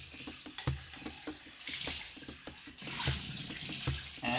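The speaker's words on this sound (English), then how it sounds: "Probably rinse your bowl out a while we're doing this." A kitchen tap runs into a bowl being rinsed out, water splashing and gurgling, with clatters of the bowl and then a fuller, steadier rush of flow.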